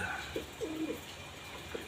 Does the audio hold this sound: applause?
no